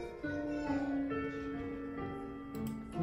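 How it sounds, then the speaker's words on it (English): Opening piano riff of a soul ballad, played back from a recording as sustained tonal chords, with faint children's voices in the background of the room. "what you're hearing now is the opening piano riff"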